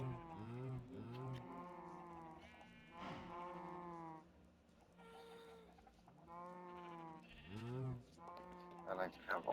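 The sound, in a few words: sheep on a wool farm in video game Minecraft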